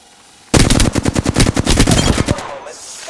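A rapid automatic burst of gunfire in the video game Apex Legends, roughly a dozen close, loud evenly spaced shots over about two seconds, then a brief fading tail.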